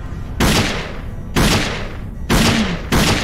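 Pistol gunfire from the shooter video game Dead Effect: four loud, sharp shots evenly spaced about a second apart, each with a short decaying tail, close and without talk.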